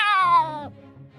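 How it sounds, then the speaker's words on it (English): A single loud, close cat meow that slides downward in pitch, followed by faint low rumbling noises. "A cat with sharp teeth and sharp claws jumps up on the table."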